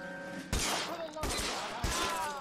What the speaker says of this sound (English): I shot his face off.